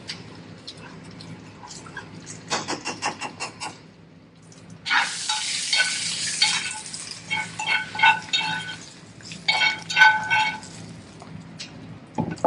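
Prawn curry with coconut sizzling and being stirred in a pan during an outdoor cookery demo, with bursts of frying hiss and scraping stir strokes that rise and fall, fairly close and clear, no talking.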